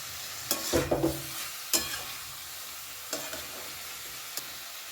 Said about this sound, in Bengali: এখন আমি এর মধ্যে আস্তে আস্তে দিয়ে দেব ডালিয়া আর ডাল যেটা আমি ধুয়ে রেখে দিয়েছিলাম ভালো করে মিশিয়ে নেব সমস্ত কিছু একসাথে